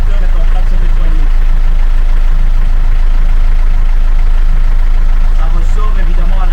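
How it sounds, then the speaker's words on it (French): A boat engine idles at its mooring off Los Gigantes, Tenerife, while fresh water flushes through its cooling system for winter storage. It makes a steady, close, even hum with a low throb, and a voice is heard at times over it. "ça c'est de l'eau douce, donc mon moteur est en train de se nettoyer"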